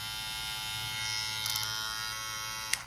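An electric hair clipper fitted with a fade blade runs with a steady, close, high-pitched buzz, a few small clicks near the end, and no voices.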